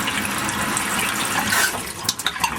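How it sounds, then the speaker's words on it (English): Steady rushing and splashing of cold water pouring from a hose into a home-brewing beer fermenter, continuous and close, with a few clunks near the end. "just filling up the fermenter with cold water"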